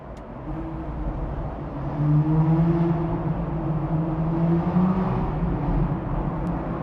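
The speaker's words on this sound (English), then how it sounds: "it has kind of a deep V12 sound, but it's just phenomenal to listen" A deep, powerful Aston Martin Vantage V12 engine revs and roars nearby, rising in pitch and holding steady over several seconds with a throaty rumble.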